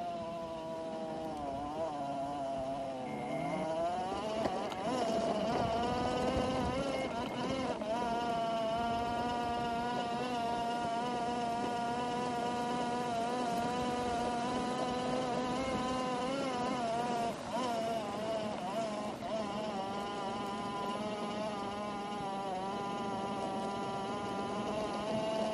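Electric motor of a small vehicle running at full throttle while climbing a hill, a continuous high whine with rising pitch early on, then sustained at a steady level throughout, with no talk.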